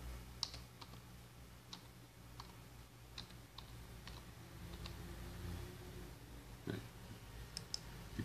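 Soft, sparse clicks of a computer keyboard as a router password is typed, irregular taps over a quiet background hum, faint and close.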